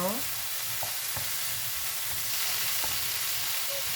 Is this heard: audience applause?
no